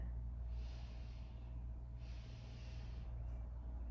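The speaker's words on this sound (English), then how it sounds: "it's 2 sniffs in" Two quiet, airy sniffs in through the nose, each drawn over about a second, over a low steady hum.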